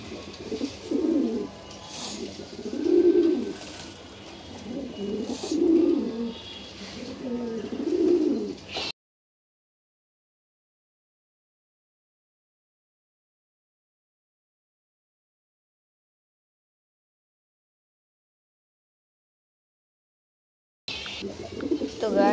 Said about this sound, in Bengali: দেখছেন, ওর ডাকটা শুনলে মন ভরে যায়।